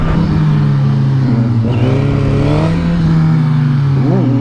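Suzuki GSX-R1000 sport bike accelerating hard on a closed course, its engine note climbing steadily through the gears with a brief dip at a shift, loud and close throughout.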